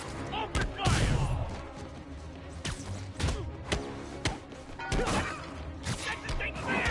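Bursts of gunfire crack out in a chaotic fight between Spider-Man and Shocker, sharp repeated impacts and smashes over a loud, busy background with voices shouting through the chaos.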